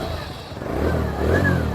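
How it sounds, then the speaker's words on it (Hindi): A TVS Radeon BS6 motorcycle with a misfiring engine starts up and revs briefly, rising in two short surges heard up close. "तो चलिए मैं एक बार फिर से मैं आपको बाइक स्टार्ट करके दिखाता हूँ"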